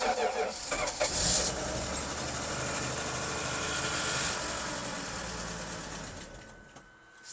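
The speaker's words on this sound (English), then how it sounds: "Fires right up. Cold start." A project car's engine cold-starts, opening with a cranking burst and catching into a steady, loud idle that runs for several seconds before dropping away near the end, with a voice heard over it.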